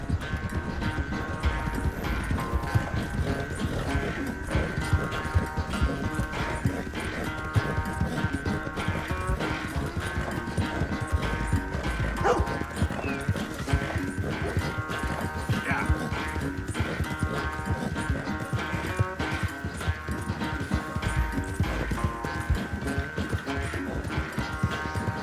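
Horse hooves clip-clop steadily in Red Dead Redemption 2, a continuous galloping rhythm under dense game ambience and music for about twenty-five seconds.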